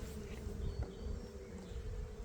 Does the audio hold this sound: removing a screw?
no